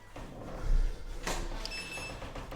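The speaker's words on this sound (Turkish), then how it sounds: "Oğlum kapıyı niye kapatıyorsun?" A door closes inside a building, giving a dull low thump followed by a sharper knock, heard close by against faint background hum with no talking.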